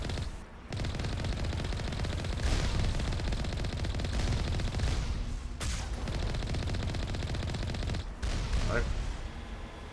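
Gunfire in the video game Mass Effect, a dense, continuous barrage of loud shots that goes on for several seconds, with a brief spoken word in the middle.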